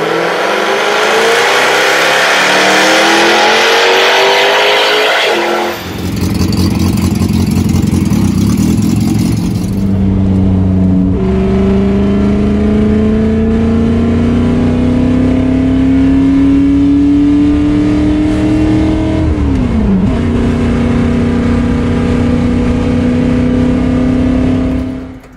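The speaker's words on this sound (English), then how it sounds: "Here you can see I am entering the Grand Prix circuit." A race car entering a Grand Prix circuit ahead of qualifying and a 24-hour race, its loud engine heard from on board, revving and shifting up through gears in a long rising drone with brief drops between shifts.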